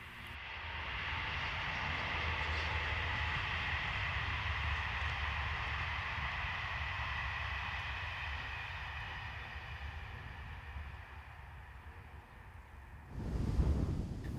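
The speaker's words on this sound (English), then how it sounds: "This Normandy-based loco is seen at Plaville, heading a train for Caen." SNCF BB15000 electric locomotive heading a train near Plaville in Normandy, a long even rumbling roar of passing rail traffic at middle distance, holding steady before a heavier surge near the end.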